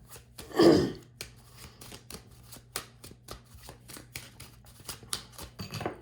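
Tarot cards are shuffled by hand, a louder riffle near the start followed by a string of soft, quick paper flicks and taps, close and quiet.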